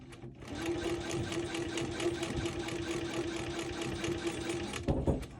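Sewing machine stitching through quilt fabric, a steady rapid mechanical hum with a rhythmic needle clatter that runs continuously, then stops near the end with a couple of handling knocks.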